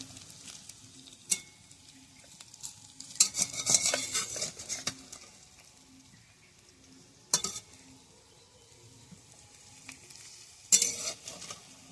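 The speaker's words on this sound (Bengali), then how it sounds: "আমিও আস্তে আস্তে জাল দিয়ে ভাজছি" Helencha greens fritters fry slowly over low heat on a wood-fired stove, giving a soft, steady sizzle with a few sharp clinks of a metal utensil against the pan. No one speaks.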